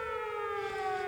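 A sustained siren tone from a sound-effect button plays loud and steady for about a second, alone with no voices.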